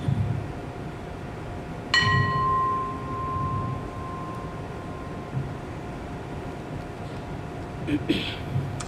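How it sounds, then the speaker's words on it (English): A single bell strikes once at the close of a guided meditation and rings out with a long, fading tone over a quiet, steady background hum. "open your eyes gradually to the sound of the bell leading you out"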